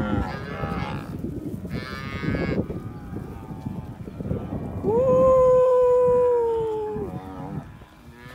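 Brahman ranching cows in a South Texas pasture low and moo, with one long, loud drawn-out moo rising near the end over a steady background of other cattle lowing.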